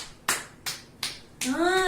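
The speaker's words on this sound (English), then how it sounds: "Okay, let's clap, clap." Hand claps in a lower kindergarten class: four sharp, evenly spaced claps close by, followed by a voice starting to speak.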